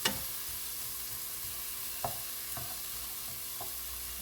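A vegetable omelette fries in a pan with a constant, moderately loud sizzle, broken by a few sharp clicks and scrapes of a utensil against the pan.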